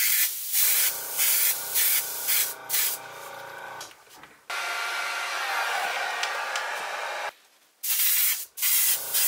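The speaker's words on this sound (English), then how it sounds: "Now I'm going to spray it on, just that part right there." Colourlock leather colour sprayed onto a BMW steering wheel, a string of short close hissing bursts, then one long continuous spray before a few more quick bursts.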